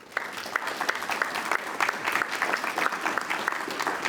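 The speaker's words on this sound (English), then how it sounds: "Let's give everybody a round of applause" An audience applauds at the close of the Q&A at a panel discussion on Florida springs health, a steady round of clapping with individual sharp claps standing out, no speech over it.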